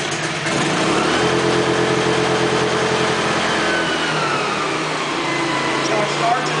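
A generator starts up and runs at a very high idle, giving a steady, loud engine drone with a low hum that holds without pause through the whole stretch.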